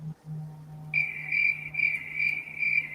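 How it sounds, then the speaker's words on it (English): Crickets chirping steadily in a rapid pulsing trill, fairly loud and close, over a low steady hum. "Whoa, I hear crickets. I hear crickets too. They woke up."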